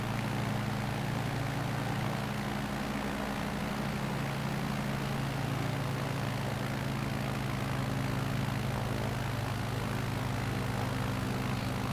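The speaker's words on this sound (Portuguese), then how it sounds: "Eu gosto muito desses aviões de Stoll, tá?" A STOL propeller airplane in Flight Simulator 2020, flying over Ponta Grossa, gives a continuous steady engine drone with an even humming tone throughout, with no speech over it.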